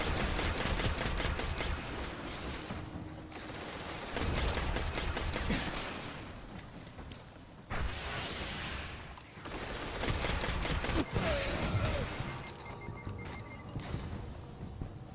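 Near-continuous gunfire from a boss enemy in Destiny, a Nightfall mission played solo in the Nexus, with dense bursts of shots and impacts running throughout and a few brief lulls.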